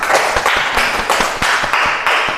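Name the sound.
applause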